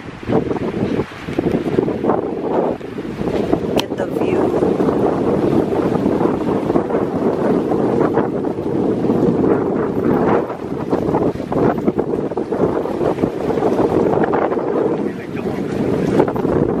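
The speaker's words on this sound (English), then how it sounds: "I don't know if you guys can hear me because it's windy" Gusty wind at a dry park buffets the microphone in a continuous loud roar that swells and dips for the whole stretch, with no other sound standing out.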